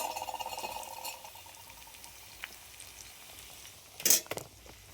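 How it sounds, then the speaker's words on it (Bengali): Potatoes fry quietly in a pan with a faint, steady sizzle, broken near the end by a short clatter of utensil against the pan. "আর এদিকে আলু ভাজাও হয়ে গেছে।"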